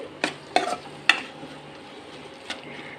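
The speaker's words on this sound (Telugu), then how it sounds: "సో ఎక్కువ అట్లా తిప్పకుండా లైట్గా తిప్పండి" An egg curry is stirred lightly in a pan, with four distinct scraping clinks of the utensil spaced irregularly over a soft, steady simmer. The sound is close and unaccompanied by talk.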